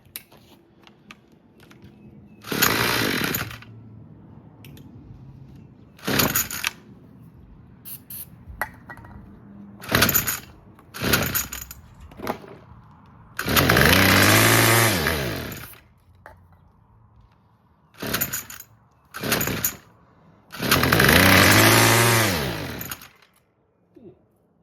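A Craftsman weed whacker engine fires up in short bursts of full-throttle revving, several separate runs of a few seconds each, loud and close, with quiet gaps between them.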